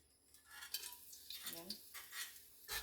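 Garlic sautéing in a frying pan, a faint sizzle under clinking of a utensil stirring against the pan, with a few soft scrapes and a quiet voice speaking briefly.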